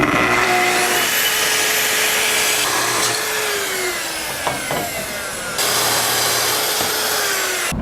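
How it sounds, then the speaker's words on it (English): A power saw cuts table legs from solid poplar wood, a loud continuous whine that shifts pitch as the blade slows and speeds through the board, with no pauses, close and dominant. "I'm gonna cut the legs out of it into its profile"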